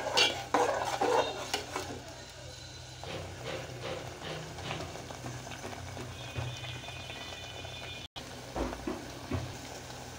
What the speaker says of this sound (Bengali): পেঁয়াজটা ভালো মতো কষিয়ে নিতে হবে।